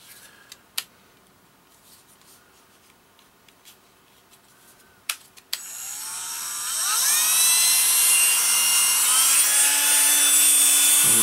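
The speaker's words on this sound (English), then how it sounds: "I cut it out with a Dremel" A Dremel rotary tool is worked on a multicopter part. After a few quiet clicks and handling knocks it spins up into a loud, high, steady whine with shifting pitch as it cuts, close and alone.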